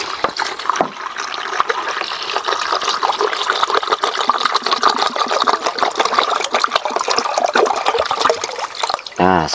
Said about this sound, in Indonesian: saya langsung tuangkan 1 liter air cucian beras ya teman-teman,